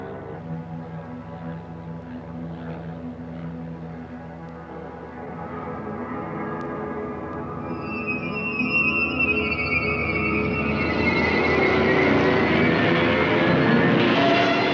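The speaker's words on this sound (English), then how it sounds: "The Germans are flying the new Albatross C-3 with a body of molded plywood capable of taking a lot of punishment." A WWI German Albatross C-3 propeller biplane drones steadily, its engine roar swelling louder and nearer over several seconds with no voices present.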